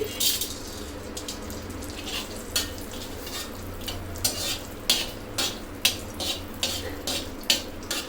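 Green cardamom pods and a cinnamon stick frying in a pan for a paneer dish, with a steady sizzle and scattered clicks and scrapes of a spoon stirring the whole spices throughout.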